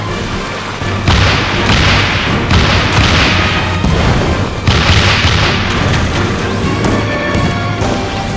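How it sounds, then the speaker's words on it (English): Cannon fire bombards a castle during a Final Fantasy XIV battle scene, with heavy booms and thuds in several loud waves over a dense, continuous rumble. "They will commence to bombard the castle with cannon fire"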